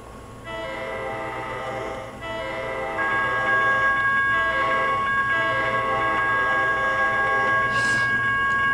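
An Amtrak train in the Trainz simulator game rolls steadily along the CN Holly Subdivision with a continuous rumble and a sustained harmonic horn-like tone, with a brief high squeal near the end.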